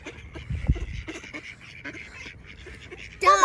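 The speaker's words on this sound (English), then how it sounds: "Ducks!" Ducks quack on Guy Fawkes Night, a few low calls early on and a louder burst of raspy honking at the end, with a person talking to them across the clip.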